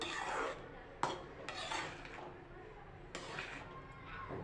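A spoon stirs cashew and almond pieces with cardamom powder into a carrot sweet in a pan, producing soft scraping and rubbing with a few sharper utensil clinks against the pan.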